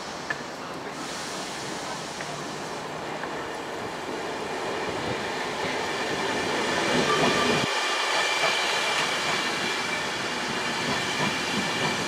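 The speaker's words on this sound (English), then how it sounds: "entering platform 4 is the 1316 East" A train rumbles into platform 4 at Peterborough station, a steady broad roar of wheels and engine building gradually, with rail noise and a brief low thump partway through.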